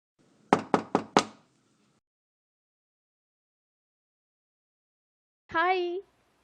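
Four quick, sharp knocks rap on a door in a quiet room, followed by a few seconds of silence and then a brief voice.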